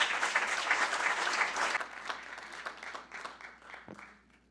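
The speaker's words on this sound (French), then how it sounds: "On va les applaudir." An audience at a conference meeting applauds panelists, a dense burst of clapping that stays steady for about two seconds, then thins and tapers away toward the end, with no talk over it.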